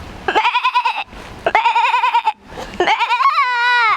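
A voice imitates a goat, giving three wavering, nasal bleats in a row, the last one drawn out and steady, loud and close.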